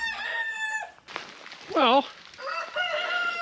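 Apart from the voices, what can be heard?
hens clucking in a chicken coop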